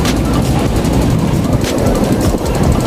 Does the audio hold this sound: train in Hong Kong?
yes